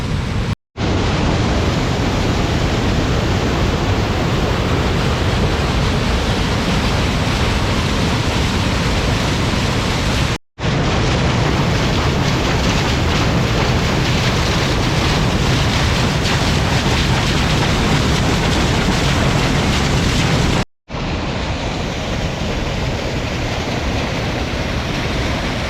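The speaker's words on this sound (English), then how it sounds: "That culvert dispatching all the water down there, that was absolutely wild." Fast water rushes out of a canal culvert below a partly open sluice, a loud, unbroken roar that fills the scene close by, with no voices over it.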